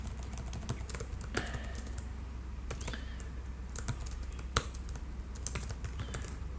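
Computer keyboard being typed on while writing Python code, irregular bursts of crisp key clicks over a low steady hum, close and moderately quiet.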